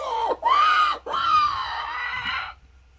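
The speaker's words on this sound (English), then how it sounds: "The sound of some screeching, dying animal in the distance." An animal lets out a shrill, wavering screech in three strained bursts, the cries rising and falling in pitch before trailing off into quiet.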